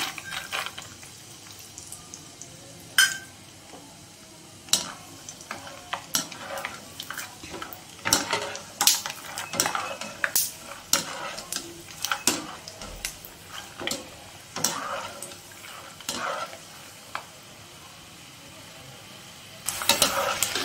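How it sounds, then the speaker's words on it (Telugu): Peanuts tossed into hot oil in a pan for an Andhra-style okra dish, soft sizzling under frequent sharp clinks and scrapes of a spoon against the pan, fairly quiet and close. "చూడండి, ఆయిల్ హీట్ ఎక్కింది కదా, పలుకులు వేసుకుంటున్నాం."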